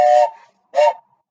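At a circle time for babies, a pretend choo-choo train whistle sounds as two short, loud, tooting hoots separated by a brief pause.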